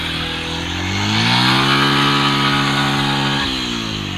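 A motorcycle engine revs up and passes close by on a rainy road, its rising drone standing out over the constant hiss of rain.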